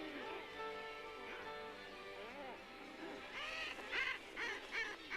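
Densely packed guillemots calling from steep cliff ledges, a continuous layered chorus of harsh, overlapping growls and croaks close by, growing louder and busier with sharper calls near the end.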